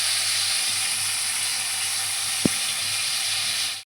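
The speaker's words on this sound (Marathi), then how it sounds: "आणि टमाट्यांना छानसं 10 मिनिटं भाजून घेऊया." Tomatoes roasting in a pan for a chickpea curry, giving a constant close hiss and sizzle with a single sharp tap midway before the sound stops abruptly.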